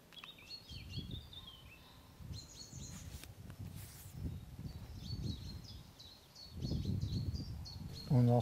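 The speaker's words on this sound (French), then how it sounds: "On entend les petits oiseaux." Small birds chirp and trill in repeated high bursts near the source of the Orvanne river, fairly faint over low rustling and outdoor background noise.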